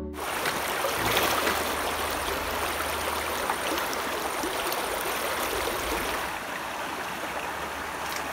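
A small, pretty river flows steadily on a trout-fishing outing, giving a continuous close rush and burble of water with no voices.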